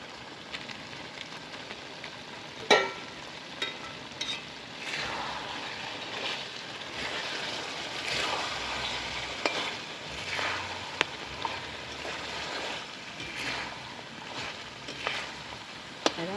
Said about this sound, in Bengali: লাল লাল ভাজা ভাজা হয়ে গেছে, কত সুন্দর তেল ছেড়ে দিয়েছে দেখো